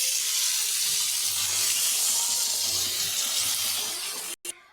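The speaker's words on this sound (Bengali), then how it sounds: "এখন আমি পরিমাণ মতন জল দিয়ে দেবো।" Water pours steadily into a pan of Bhola fish curry with flat beans and potatoes. It makes a loud, continuous rush and splash for several seconds, then cuts off abruptly near the end.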